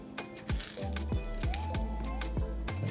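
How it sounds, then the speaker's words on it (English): A knife slices repeatedly through plantains, soft and firm, with several crisp, evenly spaced cuts against a board up close. "So I'm going to show you all how to cut the plantains"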